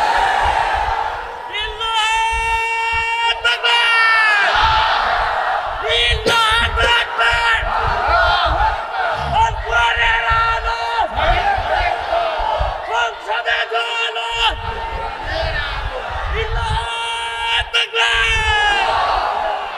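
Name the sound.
crowd chanting Allahu Akbar slogan at religious gathering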